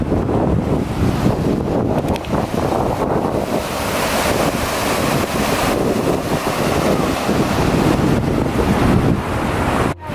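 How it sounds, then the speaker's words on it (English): Roaring waterfall at Yosemite's lower falls in winter snow, a loud, steady broadband rush of falling water with wind buffeting the microphone, continuous for the whole stretch with no talking. "you can hear the waterfall"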